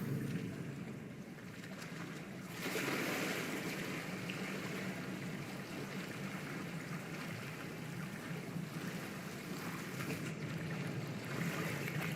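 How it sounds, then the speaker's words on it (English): Water bubbles and burbles steadily in the fantasy game Hogwarts Legacy, a continuous close rushing wash of moderate loudness with no voices over it. "Look, where the water's bubbling."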